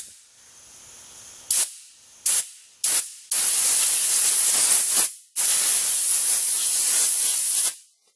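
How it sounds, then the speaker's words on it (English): Compressed air blasts through the small holes of a cleaned 2-stroke carburetor: three short hissing bursts, then two long sustained blows, loud and close with no talking. "I'm going to dry it off. I'm going to blow these little holes out."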